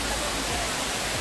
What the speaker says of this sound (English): we all came up this waterfall